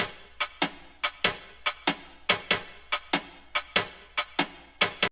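A jazz drum kit assembled from processed Minecraft sounds, compressed and treated with tape delay and reverb, tapping out a steady swinging pattern of sharp hits with short echoing tails, alone and fairly quiet.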